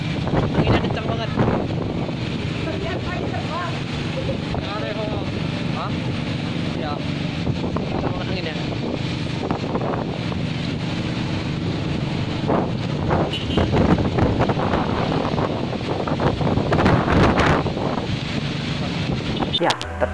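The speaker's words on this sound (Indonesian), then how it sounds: "ternyata anginnya sedang kencang" Strong gusting wind at a mountain lookout near Sibolangit, buffeting the microphone with a heavy, continuous roar that surges loudest toward the end.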